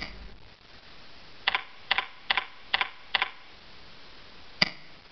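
Typing a style name on a computer keyboard: a handful of distinct key clicks in a loose rhythm, then a single final tap, close and fairly quiet against a low background hiss.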